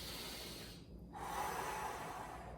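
A single deep breath is drawn in slowly and then let out as a soft, airy exhale. It is close and quiet, with no talking.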